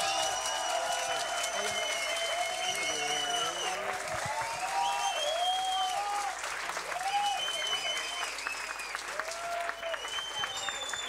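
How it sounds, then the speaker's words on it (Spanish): Studio audience applause during a Spanish-language café-concert variety show, with sustained, dense clapping throughout and a host's voice talking loudly over it. "¡Fuerte el aplauso!"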